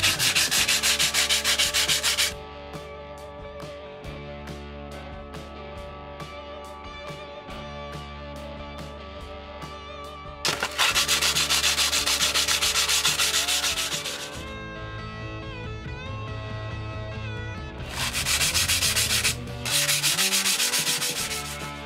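Rhythmic rubbing strokes sound as the surface of an old kitchen knife is polished, scratchy sanding bursts alternating with quieter passages in a steady back-and-forth pattern, close and clear.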